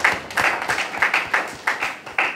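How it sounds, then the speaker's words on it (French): A small group at a Rotary Club meeting claps in a loose, rhythmic pattern. Each close, crisp clap comes about once every quarter second over a couple of seconds. "Je voudrais bien que vous applaudissiez pour vous-même."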